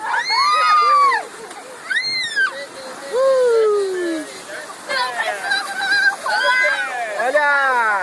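Water splashes and sloshes at the Império das Águas water park at Beto Carrero, with excited shouts and chatter from people nearby rising over the water throughout.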